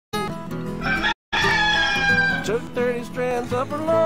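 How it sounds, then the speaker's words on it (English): A rooster crows loudly and close by, with a brief pause, then a long drawn-out cock-a-doodle-doo that trails off into further calls. "Oh, you gotta love the rooster,"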